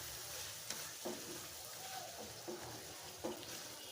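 Beef liver with garlic sautés quietly, a faint low sizzle with a few soft spatula knocks and scrapes spaced through, heard close but subdued.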